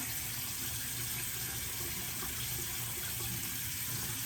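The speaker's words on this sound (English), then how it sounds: "Rinse it a little bit because of course there's soap in it." A bathroom tap runs steadily for face rinsing after a soap cleanser, a continuous close splashing stream with no speech.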